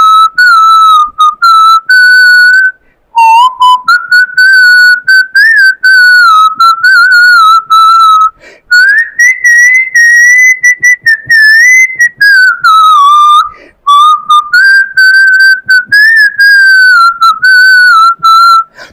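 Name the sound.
person whistling a song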